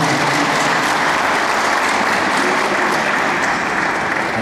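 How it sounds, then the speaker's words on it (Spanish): An audience claps steadily and evenly for several seconds, a dense wash of applause with no voices over it. "vamos a darle un aplauso"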